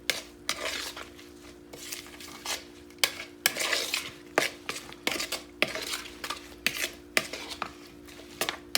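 A spoon repeatedly stirs and scrapes through a bowl of bruschetta topping made with garlic, basil, salt and vinegar, giving clattery, irregular clinks and scrapes close up with no talking.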